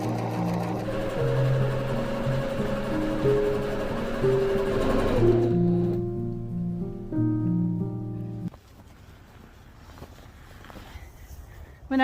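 A sewing machine quilting whirs steadily, and its motor pitch steps up and down between runs. It stops partway through, leaving quieter room noise.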